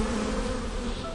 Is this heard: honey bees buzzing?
yes